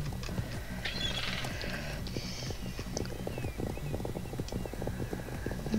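A horse in the Star Stable video game trots with a steady clip-clop of hooves and gives a brief whinny near the start, fairly close and at moderate volume.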